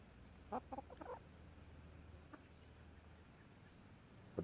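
A few soft, low clucks from chickens in quick succession, faint against a quiet outdoor background hiss, followed by one more brief cluck.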